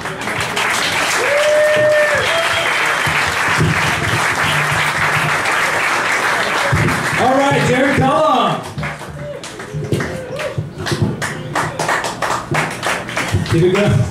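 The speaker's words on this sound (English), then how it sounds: "Keep it going. Keep clapping." Audience applause at a live comedy night at Cafe Diem in Richmond: loud, sustained clapping fills the first half while someone talks over it, then thins to scattered claps under continued speech.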